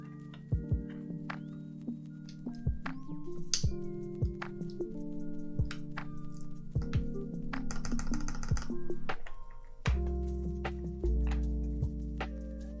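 Keys clack on a Singa Jaguar keyboard with Cherry MX Black switches in irregular, close bursts of sharp taps, over a steady background tone with no talk.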